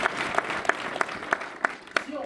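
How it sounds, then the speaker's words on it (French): Applause at a French-language talk or lecture: a soft wash of clapping from the audience, with sharper, evenly spaced claps from one nearby person cutting through it. "Donc, je vais vous applaudir déjà en commençant."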